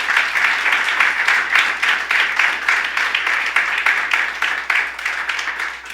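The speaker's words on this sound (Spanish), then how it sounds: "Denle un aplauso al Rey." A church congregation breaks into loud, sustained applause, many hands clapping together in a dense, steady rhythm close by.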